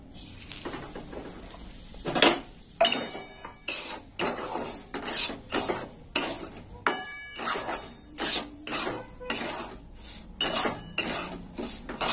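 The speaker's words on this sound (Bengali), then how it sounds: "সুজিটা ভেজে নেব ঘিয়ে।" Semolina frying in ghee in a pan for carrot malpoa, with a utensil scraping and knocking against the pan in steady, repeated strokes. Close and clear, with no voices.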